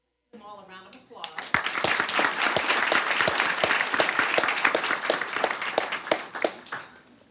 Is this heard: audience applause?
yes